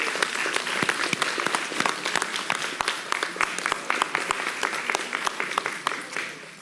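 Audience applause for young people at the kickoff of a city summer youth employment program, a dense, steady clapping from a sizable crowd that holds at moderate loudness for several seconds before tapering slightly.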